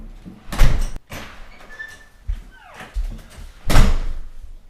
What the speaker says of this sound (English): I'm gonna open the door, and my hairs are gonna be cut.